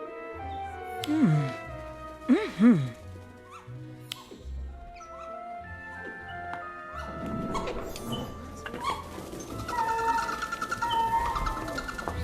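Owls at the Hogsmeade Owl Post Office, a wizarding shop, hooting and cooing in a few close calls early on, followed by rustling and shuffling clatter, with a faint melody running under the whole scene.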